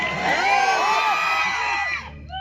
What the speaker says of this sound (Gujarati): પડકારો કરો યાર, એમની નીંદર ઉડી જાય.